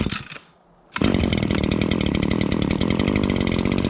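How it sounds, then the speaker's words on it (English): A gas-powered Echo PPT-2620 pole saw engine catches after a brief pause and settles into a loud, steady, high-revving two-stroke buzz, up close with no talking. "So let's get her fired up here."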